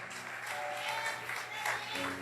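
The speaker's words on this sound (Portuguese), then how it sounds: "Você pode aplaudir a Jesus por isso?" A church congregation claps together during a worship service, dense steady applause from a large crowd that swells briefly near the end, with no voices standing out.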